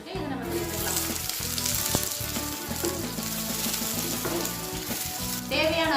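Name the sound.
sliced onions sizzling as they are added to hot oil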